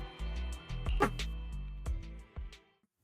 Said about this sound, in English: One day you'll get tired of barking every time the other dogs bark.